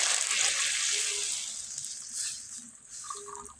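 Half a litre of milk, boiled down beforehand until thick, pours into hot ghee with spices, setting off a loud gushing sizzle that gradually settles into a softer hiss over a few seconds.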